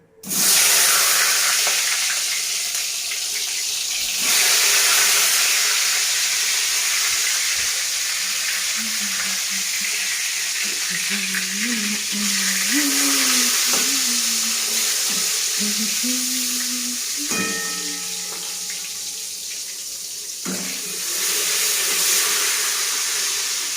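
Eggplant fries in smoking-hot oil, giving a loud, continuous close hiss with a few surging bursts, while faint melodic tones drift underneath partway through.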